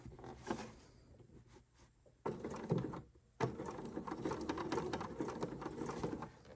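A sewing machine stitches a zipper into a Dresden patchwork pillow, with a short burst, a pause, then longer steady runs of fast mechanical stitching, close and clear with no talking.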